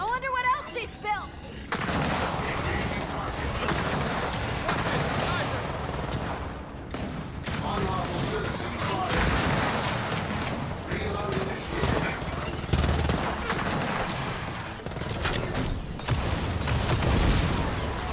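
Gunfire in the video game Gears of War 4, with sniper shots amid a dense, continuous fusillade of shots and booms, loud and sustained, with a brief voice near the start.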